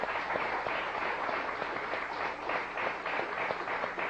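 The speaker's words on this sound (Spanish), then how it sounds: "hay que aplaudirlo" Audience applause during a 1998 televised interview broadcast, a moderate, steady patter of many hands clapping with a slightly muffled, bandlimited tone and no talk over it.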